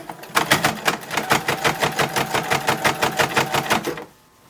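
A sewing machine top-stitches the collar of a 1910s-style toddler summer dress, running in a fast, even rhythm of loud needle beats for about four seconds before stopping abruptly into quiet.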